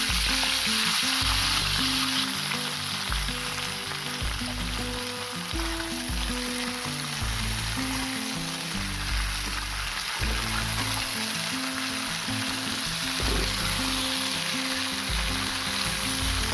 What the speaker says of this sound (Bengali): এরকম লাল লাল করে সিম আর আলুটা ভাজা করে নিতে হবে।